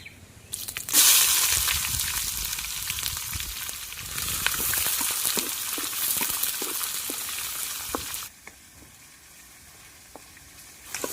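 Sliced onions, cashews and whole spices crackle and sizzle loudly in ghee for tomato rice, a steady close fry with faint stirring that drops to a quieter simmer near the end.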